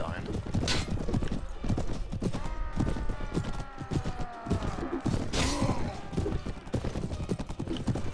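Horse hooves gallop in a medieval video game as a loud, rhythmic clip-clop. A whinny and battle noise come in over the hooves, and someone talks over them.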